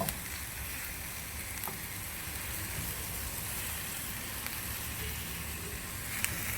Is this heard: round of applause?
no